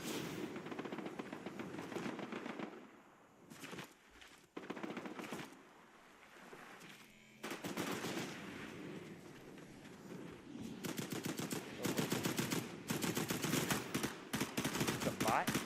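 Video-game gunfire: rapid automatic bursts crackle in dense volleys, pausing briefly and then returning louder and more sustained toward the end.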